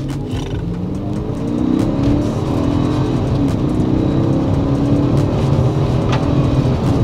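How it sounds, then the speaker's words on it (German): A Mercedes E420 W210 with a faulty transmission does a kickdown, its V8 roaring close and loud as revs climb in rising harmonic sweeps, the engine note swelling after a brief lower start and staying strong to the end. "was wir bis jetzt immer noch nicht getestet haben, ist ein Kickdown mal endlich"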